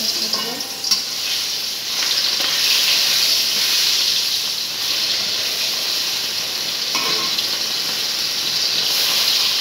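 Fish frying in hot oil in a kadai-style pan gives a steady, close sizzle and crackle that holds throughout with only slight swells, and no talking.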